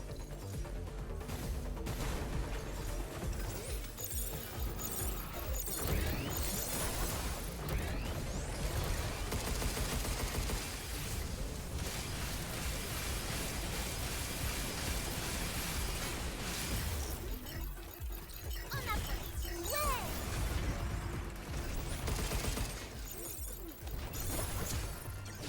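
Weapon fire in the video game Pragmata comes as dense, repeated bursts of shots and impacts with crashes, continuous over about twenty-five seconds, fairly faint and mixed with game effects.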